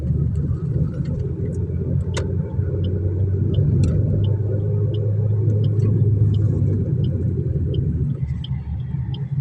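A Suzuki motorcycle in second gear rumbles steadily close by, a continuous low engine drone with faint traffic around it.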